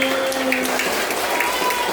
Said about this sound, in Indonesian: Tepuk tangan. Lebih keras lagi. Lebih keras lagi.